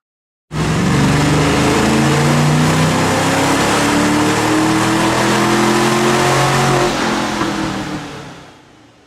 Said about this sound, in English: Now we can run the car on the dyno and see how much power we've picked up